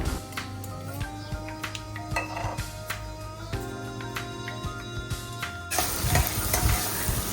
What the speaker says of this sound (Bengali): যখন টমেটো আর পেঁয়াজ ভালোভাবে ভাজা ভাজা হয়ে যাবে